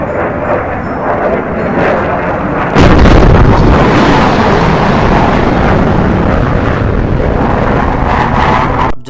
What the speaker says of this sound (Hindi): जोधपुर में ऐसे कई सोनिक बूम सुनाई दिए थे कई बार। उसमें से एक का रिकॉर्डिंग है ये।